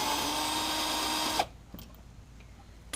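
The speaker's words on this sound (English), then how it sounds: "So what I'll do is I'll stick my ratchet on this side and just take it off." A ratchet works a pre-loosened bolt free on a Honda Civic during a CV shaft change, a loud, fast, continuous ratcheting whir close by that stops abruptly, followed by faint clicks and handling noise.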